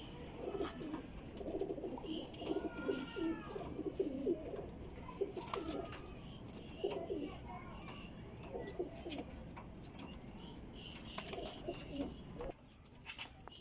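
Pigeons in a cage cooing in repeated soft, throaty bursts, close by and fairly quiet, with brief rustles and faint background noise between calls.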